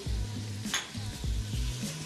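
Minced garlic frying with chicken, a moderate, steady sizzle with a low hum underneath and a single brief clink of a utensil partway through.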